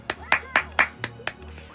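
Seven sharp hand claps in an uneven rhythm, loud and close, ringing out one after another with quiet gaps between, no talking over them.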